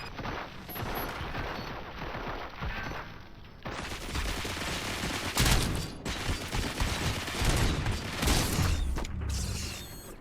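Dense bursts of gunfire from a firefight in the RoboCop Rogue City video game, rapid volleys that grow louder and fuller partway through, mixed with mechanical clanks and no voices.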